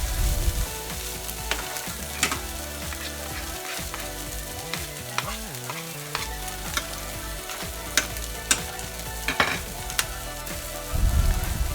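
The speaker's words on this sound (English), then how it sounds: "Once you put in the liver spread, you have to keep on mixing it or else it's gonna get burned" Liver spread being mixed in a hot frying pan, a steady loud sizzle with repeated scraping and knocking of the utensil against the pan, continuous and close, no talking.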